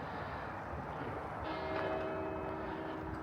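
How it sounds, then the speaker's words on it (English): Church bells ring faintly in the distance on an Easter outing near the Waverley, with a sustained tonal chime rising over low outdoor background noise. "You may be able to hear the church bells ring."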